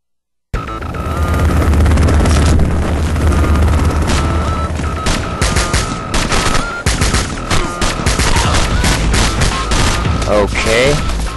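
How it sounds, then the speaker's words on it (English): Sustained barrage of gunfire and booming blasts from Bionic Commando Rearmed, loud and dense for the whole stretch, with game music and effects layered underneath. "We're under enemy fire."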